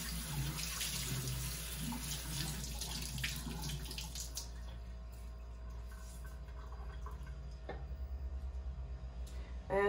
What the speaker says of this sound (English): I'm just going to rinse the sponge in between so that I start fresh with the next boot.